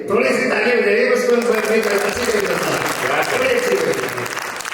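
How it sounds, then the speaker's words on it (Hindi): Dense, loud applause from a live audience at a Hindi comedy or poetry performance, steady and sustained with a voice speaking over it near the end. "थोड़ी सी ताली बजाइए बस।"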